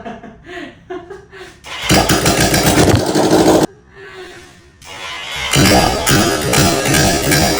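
A 1979 Kawasaki KZ650 motorcycle engine, run without exhaust, sputters to life and roars loudly and raggedly, cuts out briefly, then roars again; a little laughter comes before it starts.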